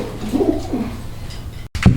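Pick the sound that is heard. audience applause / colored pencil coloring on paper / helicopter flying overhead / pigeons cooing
pigeons cooing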